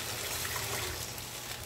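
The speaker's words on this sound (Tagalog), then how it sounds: "hinalo lang mabuti at nilagyan ko na po siya ng tubig." Water poured into a cooking pot while making sinigang na bangus, a sour milkfish soup, gives a steady, continuous splashing rush for under two seconds, close and moderately quiet, with no talking.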